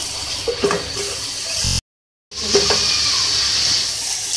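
Water poured into dal in a cooking pot on the stove for a dhaba-style daal mash, a steady splashing, sizzling pour close by that stops briefly, then resumes with no talk.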